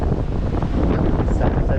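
Strong typhoon wind batters the microphone beside boats moored on ropes, a loud, dense, unbroken roar with gusty surges.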